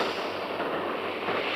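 Firecrackers bursting nearby in a dense, continuous crackle that stays loud and unbroken throughout.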